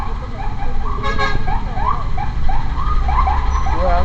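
Escort vehicles on a highway blare horns and wailing sirens amid steady road and traffic rumble, loud and close, with a voice speaking over the noise.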